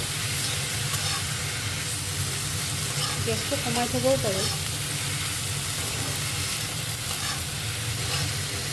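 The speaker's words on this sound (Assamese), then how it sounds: "এইখিনি এতিয়া অকণমান সিজালৈকে অলপমান ভাজি ল'ব।" Steady sizzling of pumpkin stems frying in a pan runs throughout, a constant close hiss with a brief voice speaking partway through.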